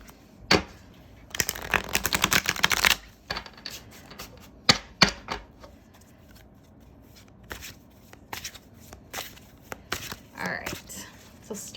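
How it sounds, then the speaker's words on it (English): Tarot cards are shuffled up close in several rapid riffling bursts, with softer flicks and taps of cards between them. "I'm just gonna give a nice, good, clear shuffle"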